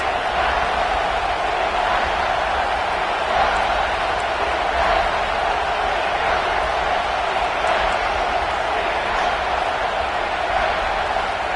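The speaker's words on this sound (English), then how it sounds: "this crowd is getting behind this defense" Stadium crowd at a football game roars steadily throughout a big third down in the red zone, a dense sustained wall of cheering with no breaks.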